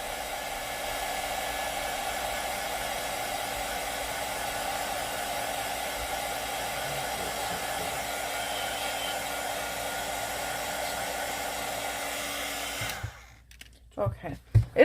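Hair dryer blowing steadily, held slightly away, while drying alcohol ink on a playing card, a constant whooshing hum that cuts off near the end, followed by a few faint handling knocks.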